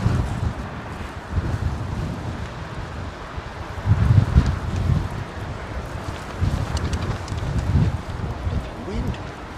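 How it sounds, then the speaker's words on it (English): Gusty wind buffets the microphone at Heathrow airport, a steady rumbling roar that swells in louder surges, with no voices over it. "Wind, what's going on?"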